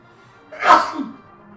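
A single sneeze rises sharply and then trails off, loud and close, with near silence around it.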